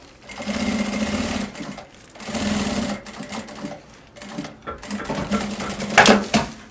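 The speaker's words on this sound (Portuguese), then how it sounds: "a gente vem com o forrinho e termina essa costura que ficou faltando" Sewing machine stitching the fabric lining seam of a thermal bag, running in three steady bursts of a few seconds each with short pauses between, close and clear, with no talking.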